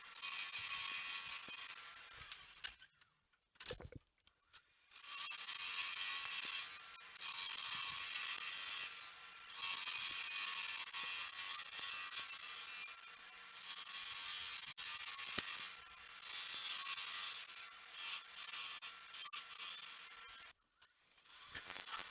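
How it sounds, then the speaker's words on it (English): A bowl gouge cuts a wooden sphere spinning on a lathe, giving a bright, hissing scrape in long, even passes. Brief pauses break the cutting as the tool lifts off the wood. No one speaks. "I like using a bowl gouge here, but a spindle gouge would also work."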